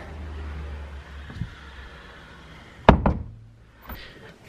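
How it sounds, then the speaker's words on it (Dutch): A door is swung shut quickly in a hotel during a snowy freezing morning, landing as one loud close thud followed by a rattling bounce after a brief rustle. "Oké, snel de deur dicht."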